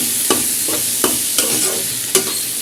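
A spoon scrapes around a bowl in five distinct strokes, evenly spaced, as salt is stirred into a fish mixture, close and clear with no talk.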